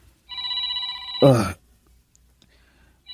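A mobile phone ringtone rings in a steady, loud electronic pattern from a radio drama, then a voice cuts in briefly and the ringing fades to quiet.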